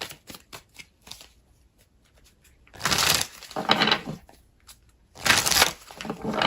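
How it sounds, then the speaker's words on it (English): A tarot deck is handled and shuffled, with light taps and flicks, then several dense, crisp riffling bursts of cards a second or two apart, heard close up with no talking. "I'm just shuffling right now"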